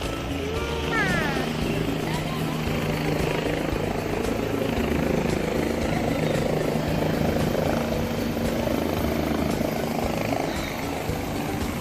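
A helicopter's rotor thumps and its engine roars continuously nearby at an air force base, a steady loud drone with faint voices mixed in underneath.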